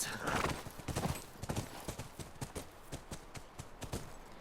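Horse hooves clip-clop in a rapid steady gallop in the video game The Last of Us near a ranch, crisp rhythmic hoofbeats close by, with a brief whinny near the start.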